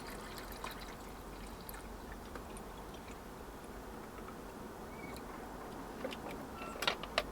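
Water poured from a container into a pan at an allotment, a soft steady trickle running for several seconds with a few louder splashes and clinks near the end, close by and without talk.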